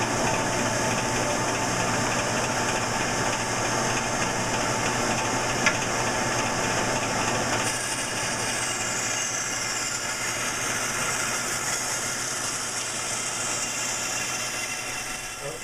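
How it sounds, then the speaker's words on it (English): A saw resaws a walnut board in a woodworking shop, producing a steady, loud mechanical drone with a constant whine and no voices. The tone shifts slightly partway through the cut. "We've got the walnut resawn to a little over a 1/2 inch."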